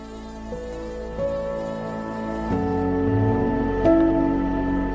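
A housefly buzzes in a steady, thin drone that shifts slightly in pitch as it moves, continuing for several seconds with no voices.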